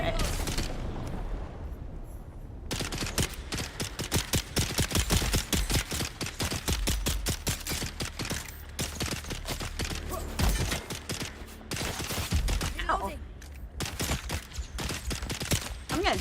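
Rapid gunfire from a gun in the video game Dune, dense bursts of loud shots firing almost continuously after a brief quiet start, up close.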